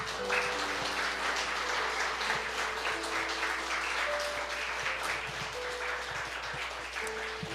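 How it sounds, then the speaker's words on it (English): A church congregation welcomes new members with applause, soft and fairly distant clapping from a room full of people under a low steady hum. "Let's just give them a round of applause, first of all."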